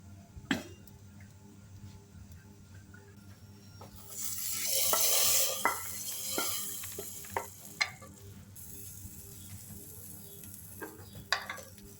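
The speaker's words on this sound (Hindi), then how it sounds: "बस जी इसको ब्राउन करने के बाद मैं दाल के ऊपर तड़का लगा दूँगी।" Spices sizzle in oil in a pan for a dal tempering, rising to a louder hiss midway, with occasional sharp clinks of a spoon against metal.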